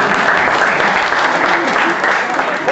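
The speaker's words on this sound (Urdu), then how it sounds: "وہ بھی بھائی بھی اب تالی بجا سکتے ہیں" A church congregation claps loudly and continuously, a dense, even wash of many hands close by with crowd noise blended in, sustained throughout.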